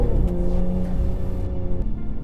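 Aston Martin Vanquish V12 engine revving under acceleration, a loud close growl that rises briefly then eases off.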